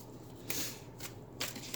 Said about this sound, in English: So I've shuffled the deck.